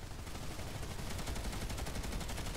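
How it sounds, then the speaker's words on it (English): Sustained automatic gunfire in the video game Planetside 2, a rapid, even stream of shots held without pause for the whole stretch at moderate level. "hold down the left trigger until you run out of bullets"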